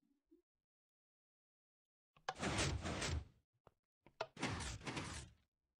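Minecraft piston extender door in the video game, heard as two loud mechanical whooshing door movements a second apart after near-silence, clear and close with no talk.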